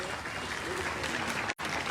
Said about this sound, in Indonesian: Maka tepuk tangan untuk Pak J.R.